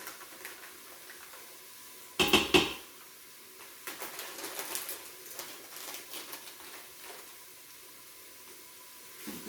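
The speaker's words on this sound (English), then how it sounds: "I'm going to stir in at least half of my rice mixture." A rice mixture is stirred into a pot of chicken soup, with a sudden bright clatter followed by scattered light clinks and wet taps of a spoon against the pot.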